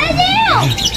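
A pet bird gives a short, loud, close-up call with rising and falling whistled tones, lasting about a second.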